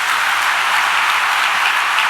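A church congregation claps steadily together, a dense even wash of applause that holds at the same level throughout.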